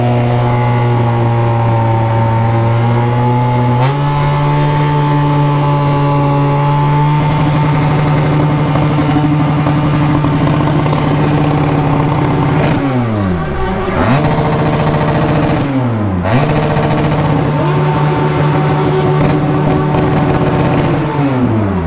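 BMW 1200 motorcycles at a street gathering, loud engines idling with a steady low drone, then several revs rising and falling sharply midway, close and dominant throughout.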